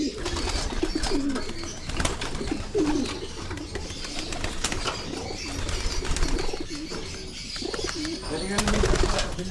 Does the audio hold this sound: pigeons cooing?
yes